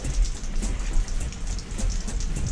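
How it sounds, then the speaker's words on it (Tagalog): Steady rain in San Diego, the first in months, pattering densely on surfaces close by, a continuous even hiss with no voices. "Ngayon lang uli umulan sa San Diego."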